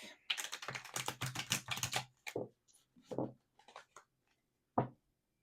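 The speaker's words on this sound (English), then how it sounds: "As I'm shuffling the tarot" Close, crisp flurries of tarot cards riffling and slapping together in quick bursts, then a few separate soft flicks with quiet gaps between.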